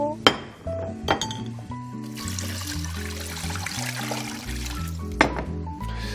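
Pieces of beef, cut kelp and radish go into a pot that is still heating. A few sharp clinks and knocks ring out, with a soft wet clatter and trickle in between. No one speaks.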